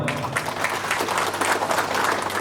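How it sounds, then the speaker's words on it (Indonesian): Steady, dense applause from a meeting audience of a palm oil producers' cooperative, welcoming a guest; continuous clapping throughout without gaps. "Tepuk tangan buat beliau."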